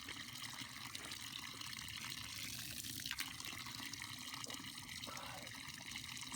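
Cold, clean spring water pouring straight out of a mountainside near an old hunting cabin, a steady close trickle and gurgle that flows continuously without speech.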